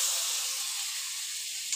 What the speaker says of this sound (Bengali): রসুনটা একটুখানি লাল লাল করে ভাজা হবে।